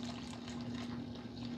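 Water is poured into a potted plant indoors, a steady close trickle and pour heard alone for a second or two, with a faint constant hum underneath.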